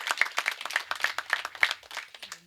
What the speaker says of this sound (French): Je pense qu'on peut encore l'applaudir, notre belle coach